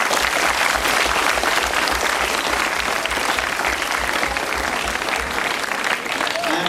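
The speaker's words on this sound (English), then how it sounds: "So let's do a final clap for all those who got academic awards." Sustained applause from an audience honoring academic award winners, dense and steady for the whole stretch, with voices mixed into the clapping.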